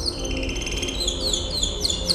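A songbird sings clear, repeated high chirps and tweets over a steady low background hum, the short bright phrases coming close together across the brief stretch.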